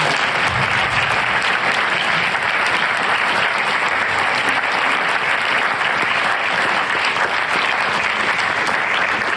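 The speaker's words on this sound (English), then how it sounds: "Let's give a round of applause for" Sustained audience applause fills a literary event for arts and health, a dense, steady wash of many hands clapping at even loudness throughout with no voices over it.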